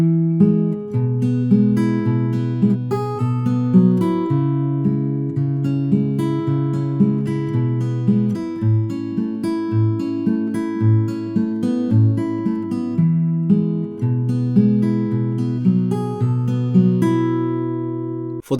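Acoustic guitar fingerpicking the opening line of a song, a steady alternating bass under plucked treble notes, played close and clear with no talking.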